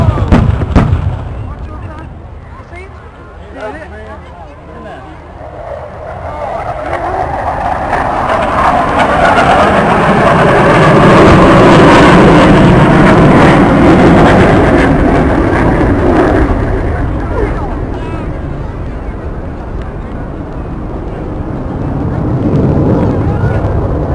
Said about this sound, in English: the explosion was simulating a rocket-propelled grenade